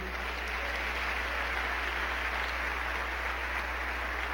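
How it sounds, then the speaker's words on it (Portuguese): A congregation applauds during a Portuguese-language church service, a faint, even wash of distant clapping over a steady low hum, with no clear voices. "Você pode aplaudir a Jesus por isso?"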